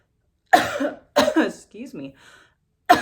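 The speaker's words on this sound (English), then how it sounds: "coughing up a storm over here" A person coughs in a few harsh, close bursts with some throat clearing and a brief spoken apology between them, then one more cough at the end.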